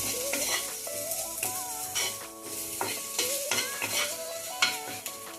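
Garam masala frying in a pan for sabu pulao crackles under repeated metallic scrapes and clinks of a stirring spoon, quick and regular, close up with no speech.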